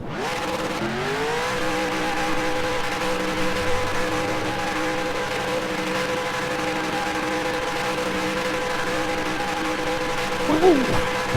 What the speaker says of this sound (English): Nothing like some victory burnouts